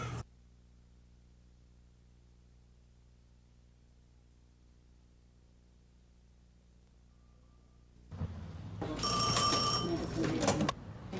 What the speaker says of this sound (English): When the 911 emergency phone rings at police headquarters